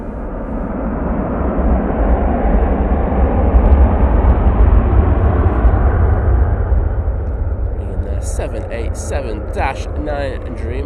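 A Boeing 787-9 Dreamliner airliner arriving from Bahrain at Manchester Airport makes a loud, sustained deep jet roar that swells and slowly fades, with a voice talking over the final seconds.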